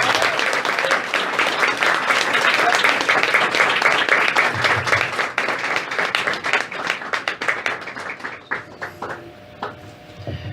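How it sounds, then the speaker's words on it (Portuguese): Dense applause from a church congregation fills the hall, loud and continuous, then thins into scattered claps as it fades out over the last few seconds. "aplauda o Senhor, irmão."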